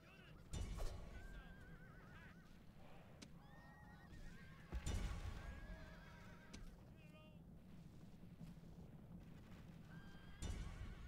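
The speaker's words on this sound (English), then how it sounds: "Look at those horse archers." Horses in the battle game Rome Total War, with repeated whinnies and neighs over clip-clopping hooves, loud bursts spaced through the clip and someone talking at times underneath.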